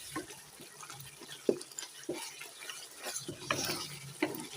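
A spoon stirs kasuri methi through fried Kashmiri chicken masala in a pan, giving soft scraping and clinking strokes at an irregular pace, close and fairly quiet, with faint sizzling beneath.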